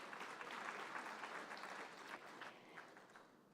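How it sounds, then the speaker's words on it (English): Audience applause at an investment conference comes as a soft, distant wash of clapping that slowly fades away, ending with a sudden bump at the very close. "Let's give Sam a round of applause as he comes up"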